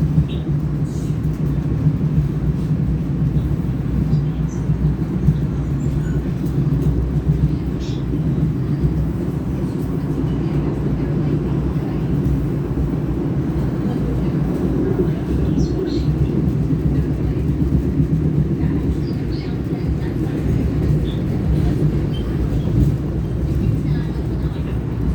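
A steady low rumble and rattle of a moving train is heard from inside a carriage, continuous and even throughout with no clear talk over it.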